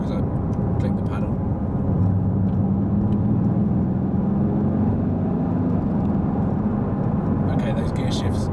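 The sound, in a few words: Mercedes-AMG GT S engine accelerating through paddle gear shifts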